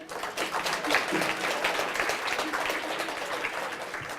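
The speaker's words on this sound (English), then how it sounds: "Let's clap for each name." Audience applause at the Cardinal Challenge 2018 name announcements, a dense, continuous burst of clapping from a sizable crowd lasting several seconds.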